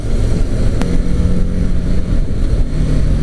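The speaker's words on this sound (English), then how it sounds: "The exhaust as well, I'm told, is a little bit louder than the RR310" Steady low engine rumble of a TVS Apache RTR 310 motorcycle exhaust idling and revving in Bangkok, loud and close, with a brief sharp click partway through.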